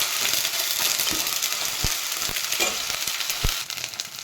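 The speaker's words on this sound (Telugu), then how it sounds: "అల్లం పేస్ట్ వేసాక బాగా కలుపు కలుపుతున్నానండి" Ginger paste sizzles and fries in a pan for a mushroom curry, and a utensil stirs it with a few sharp scraping knocks against the metal over the constant close hiss.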